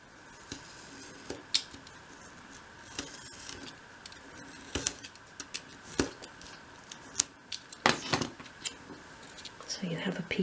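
Small craft knife or scissors cutting away a section of material for a 1/12 scale miniature shop model, giving quiet, intermittent snips and scrapes with soft handling noises at close range.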